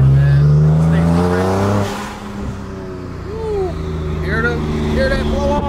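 Blow-off valve on a 1200hp Porsche 911 Turbo S, heard as a loud engine drone that drops away into a hiss and then chirping flutter as revs fall, with people talking over it.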